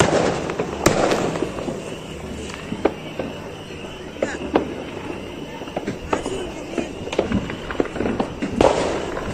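Fireworks and firecrackers go off during Christmas celebrations in Florida, Uruguay, sharp pops and bangs cracking at irregular intervals, some near and loud, others distant, while people talk nearby.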